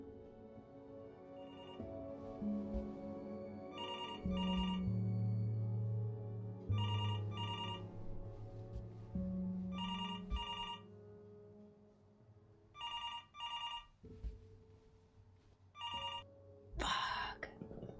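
Telephone bell ringing in the video game Before Your Eyes: repeated double rings in a regular rhythm over a low, sustained musical drone, clear and fairly near, with no voices.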